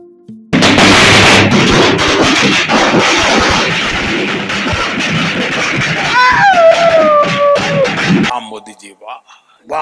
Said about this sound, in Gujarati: ફટાકડા ફોડવાનું ચાલુ કરી દીધું.